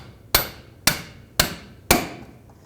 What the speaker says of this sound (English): The way I'm going to remove it is with a pry bar right up against it and a hammer on the end of the pry